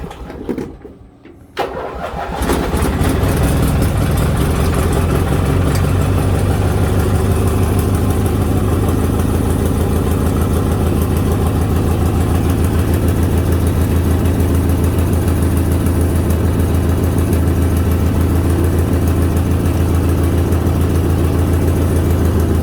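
A 1987 Craftsman GT18 lawn tractor engine catches after a brief start and settles into a loud, steady idle, a close low rumble droning on without a break.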